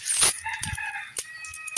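Chickens clucking in a few short bursts, with some scattered tapping and clatter between the calls.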